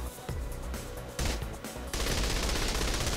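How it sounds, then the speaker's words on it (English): Gunfire in the video game Saints Row 3, rapid bursts of automatic shots in a few dense runs, steady and moderately loud, with no talk over it. "Shoot him in the face."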